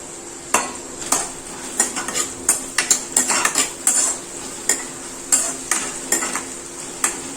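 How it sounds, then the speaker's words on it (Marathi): Finely chopped onions frying in oil in a kadhai, with a utensil repeatedly scraping and clinking against the metal pan in irregular strokes over a soft steady sizzle, close and clear with no talking. "त्याच्यामध्ये बारीक चिरलेले 2 कांदे मी फ्राय करून घेणार आहे"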